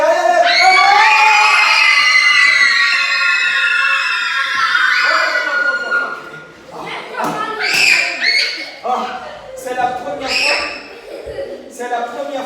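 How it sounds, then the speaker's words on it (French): A crowd of children screams and shouts loudly at a traditional African storytelling session, first a long sustained high-pitched roar, then shorter bursts of yelling and shrieks that rise and fall. "C'est la première fois que j'ai trouvé des enfants qui crient plus fort que moi."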